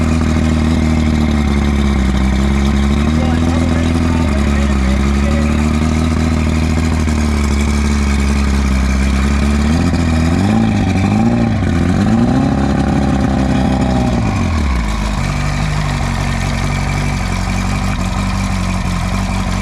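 A loud V-4 outboard motor idles with a steady low throb, its pitch wavering and dipping mid-way before settling back to a smooth idle.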